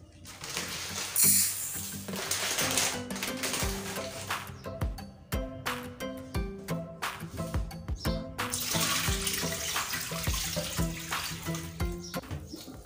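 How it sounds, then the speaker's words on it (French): Rice is rinsed under running tap water, giving a steady close rush of flowing water with sloshing and swirling in a bowl, continuous and fairly loud, without any speech. "Rincer votre riz est très important."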